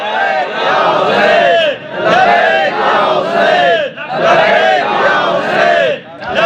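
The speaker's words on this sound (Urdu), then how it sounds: "یہ لبیک یا حسین کا نعرہ ہے" A crowd at a Shia majlis commemorating Imam Hussain's martyrdom chants the Labbaik Ya Hussain slogan in loud, rhythmic waves of massed voices, each roar rising and falling with brief dips between repetitions.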